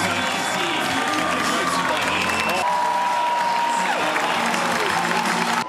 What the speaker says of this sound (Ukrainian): Тут найбільше аплодисментів за те, що принаймні спробував.